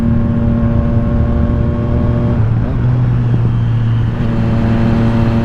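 A 2020 Triumph Street Triple RS motorcycle engine drones steadily while riding, its pitch stepping down at a gear change from fourth to fifth, then settling again, loud and close.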